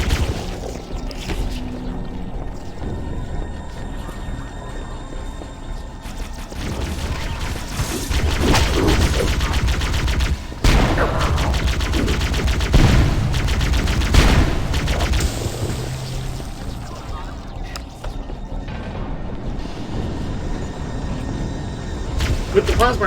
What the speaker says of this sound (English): With the plasma rifle, I will say I'm glad that they kept the Halo 1 sound effect.